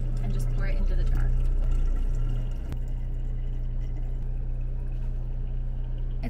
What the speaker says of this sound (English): I'm gonna take this jar and my mixture, now that it's a little bit cooled, and just pour it into the jar